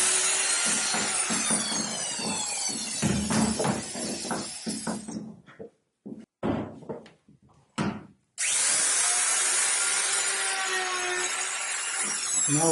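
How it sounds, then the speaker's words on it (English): A router fitted with a flush trim bit cuts a shoulder into limestone, screaming loudly in long continuous passes, broken midway by a few seconds of stop-and-start bursts before the harsh grinding resumes at full volume. "The router is set up with a flush trim bit"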